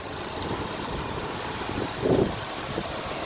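A 2018 Mazda CX-9 AWD idles steadily just after start-up, a smooth continuous engine hum close by with a brief swell partway through.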